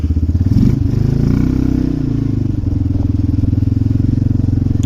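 An off-road four-wheel-drive vehicle's engine revs up with a loud, throbbing, chugging exhaust close by. It rises briefly in pitch and then settles into a steady rhythmic drone with some clatter.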